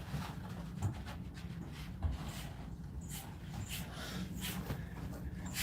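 Inside a hotel room, a dog gives a few short, soft barks and yips between whimpers and panting, close to the microphone and fairly quiet.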